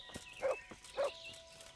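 A dog in the video game Kingdom Come: Deliverance gives two short barks about half a second apart, faint and close, against a quiet background.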